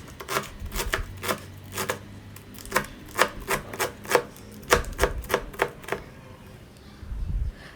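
Fresh palak spinach leaves picked from a garden are cut in quick, steady crisp strokes, a close rhythmic chopping run that thins out near the end, with faint speech underneath.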